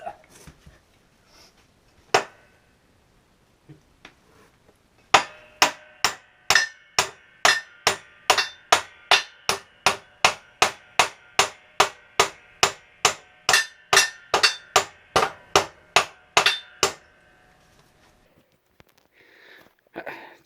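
A hammer strikes steadily about thirty times in a fast, even rhythm, loud and close, after a few scattered knocks and before quieter handling at the end, with no talk.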